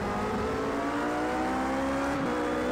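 A race car engine in Project CARS 2, during a long WEC endurance stint with the car starting to falter, drones loud and steady at high revs with a slight pitch change near the end.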